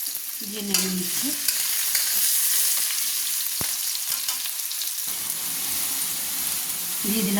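Vegetables are stirred in a wok of hot oil: a steady sizzling hiss runs throughout, broken by scraping and clanking of the spatula against the pan, close and fairly loud.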